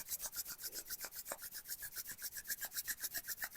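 Two palms rub briskly together in a steady back-and-forth rhythm, a soft, close, dry swishing repeated about six times per second during a Kundalini practice, with no talking over it.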